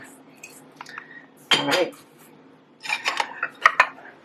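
A knife cuts a slice of Italian wheat pie, giving scraping, clinking bursts against a plate or pan, one firm stroke then a cluster of sharper clicks, with a brief word spoken nearby.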